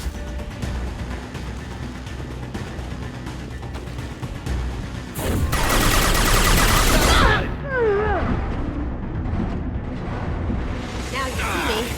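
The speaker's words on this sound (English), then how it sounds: "Taking fire." Gunfire in the sci-fi shooter video game Mass Effect 2: loud, rapid bursts of shots over a steady battle din, peaking in a sharp volley before fading into quieter combat noise, with no talking.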